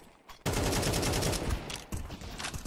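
Loud burst of automatic gunfire in Counter-Strike 2 during a competitive match on the map Anubis, a dense rattling volley lasting over a second, then sporadic further shots as it tails off.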